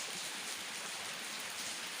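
Light morning drizzle in Surin, Thailand, a soft, steady hiss of fine raindrops pattering on surfaces, faint and even throughout with no voices.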